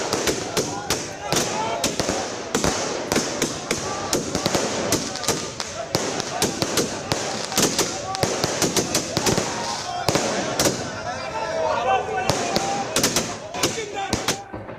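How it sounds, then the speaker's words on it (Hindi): Fireworks set off by celebrating political supporters crackle and pop in rapid irregular bursts, with sharp bangs throughout and a busy crowd murmuring underneath. "अनंत सिंह के आते ही आतिशबाजी शुरू हो गई, समर्थकों ने जश्न मनाना शुरू कर दिया"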